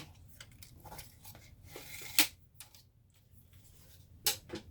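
Close, soft snipping and crinkling of a small piece of paper being cut, with two sharper crisp snips standing out against quieter rustling.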